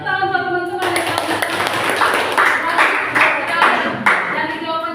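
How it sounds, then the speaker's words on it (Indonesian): Pupils in a classroom clap for their classmates, a lively burst of close, sharp handclaps starting after a brief tone and continuing at a quick uneven rhythm with a few voices mixed in. "Tepuk tangan buat teman-teman yang tahu."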